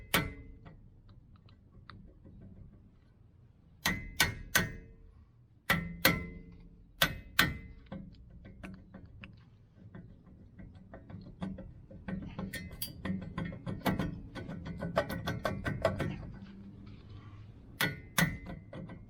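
Brass hammer tapping a nut on a Jeep CJ-7 hub: sharp metallic taps, some single and some in quick clusters, loud and close, with brief pauses and a denser run of lighter taps toward the end.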